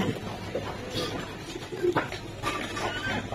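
A Giribaz pigeon coos in short, soft repeated calls, nearby and moderately loud, with background noise and faint human voices around it.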